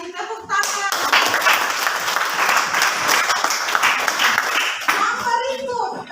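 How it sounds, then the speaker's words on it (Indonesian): Students in a classroom clap together in a brisk burst of applause lasting several seconds, with a teacher's voice and children's chatter briefly heard at the start and end. "Kita kasih tepuk tangan."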